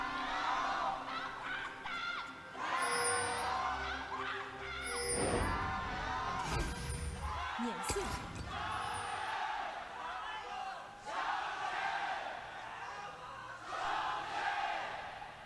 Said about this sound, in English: You can hear the fans, Raz.